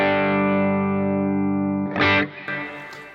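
Clean electric guitar played through an amp with a little reverb, a sustained chord ringing out and slowly decaying before a fresh strum and a softer ringing tail.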